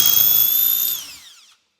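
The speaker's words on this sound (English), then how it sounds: "All you do is drill a hole." A power drill bores a hole in wood for a pigeon perch, a close, loud high-pitched whine that holds steady and then winds down and stops as the bit finishes.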